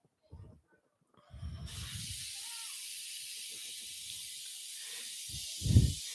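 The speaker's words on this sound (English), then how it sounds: "that is my Instapot releasing steam for dinner" An Instant Pot pressure cooker venting steam, a loud, steady hiss that starts abruptly and holds for several seconds, with faint thumps and movement around it.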